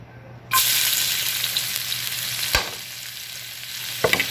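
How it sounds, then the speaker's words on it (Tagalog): Chopped onion hits hot oil in a pan for a water spinach dish and breaks into a loud, steady sizzle. Brief scraping stirs of a utensil sound close by. "So, ihulog natin yung sibuyas."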